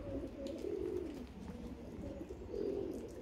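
Budapest tumbler pigeons coo in low, rolling phrases in two drawn-out bouts, close by over a steady wash of rain noise.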